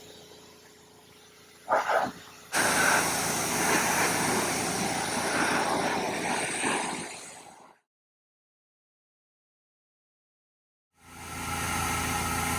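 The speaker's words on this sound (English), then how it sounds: "just watch where I'll spray from top to bottom, covering the area" A loud, steady hiss of a hot water pressure sprayer spraying around a motor runs for several seconds, cuts to silence, then starts again near the end.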